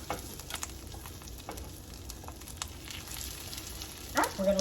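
Chicken cutlets sizzle steadily in a pan for a keto chicken piccata, a soft continuous crackle with a few clicks, then a brief louder clatter and sharper sizzle near the end as more cutlets go in.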